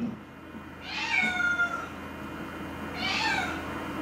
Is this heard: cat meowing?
yes